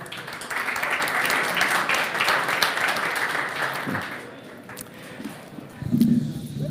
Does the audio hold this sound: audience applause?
yes